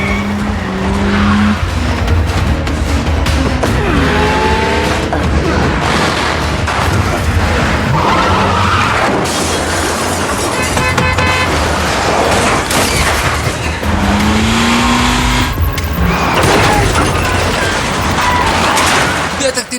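A film car chase: engines roar continuously while tires screech in several long squeals, with crashes and bangs punctuating the din and a narrating voice running underneath throughout.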